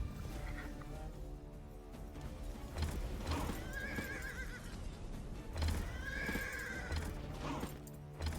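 Horse neighing in a video game, two loud whinnies rising and falling a few seconds apart, over busy game sound with hoof clops and battle noise.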